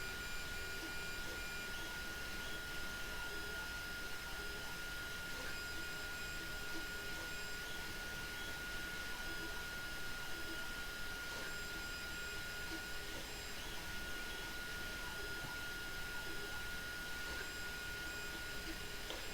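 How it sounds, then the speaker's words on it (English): A 3D printer prints a custom J38 telegraph key knob with a faint, steady mechanical hum and a thin constant whine, continuous and unchanging with no voices. "The 3D printer is about the most useful tool in my toolbox."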